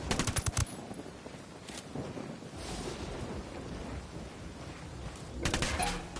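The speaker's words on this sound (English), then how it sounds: "Opening fire." Gunfire in Ghost Recon Wildlands, a quick burst of rapid shots at the start and another near the end, over a continuous windy, rushing background.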